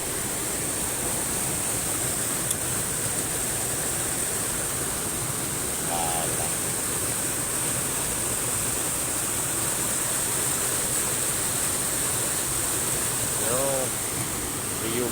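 A waterfall at the Lhok Drin tourist spot, its falling water producing a constant, dense, even rush, with faint birdcalls and a few brief sounds in the distance.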